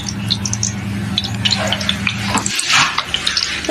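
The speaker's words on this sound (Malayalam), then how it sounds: "എന്നിട്ട് കുറച്ച് എണ്ണ ഒഴിച്ചിട്ട് അതിലേക്ക് ഈ വഴുതിനങ്ങ ഇടാണേ" Brinjal fries in oil in a pan with a continuous hiss and crackle, joined by a low humming tone that cuts out partway, followed by stirring scrapes.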